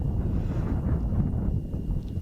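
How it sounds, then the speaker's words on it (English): Wind buffets the microphone outdoors at a girls' soccer game, a loud low rumbling roar that holds steady for the whole stretch with no voices. "It's a bit windy."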